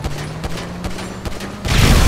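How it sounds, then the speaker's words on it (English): An explosion in Grand Theft Auto V comes after a few sharp thuds over a low steady hum, then a loud, broad rushing blast swells at the end. "I wanna hear the explosion."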